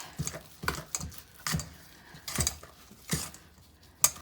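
Spoon scraping and clacking around a bowl while salt dough is mixed, a steady series of close, sharp stirring knocks roughly every half second.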